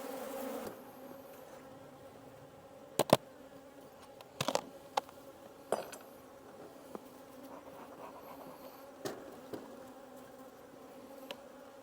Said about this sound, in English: a bunch of mean bees